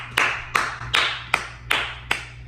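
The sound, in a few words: people clapping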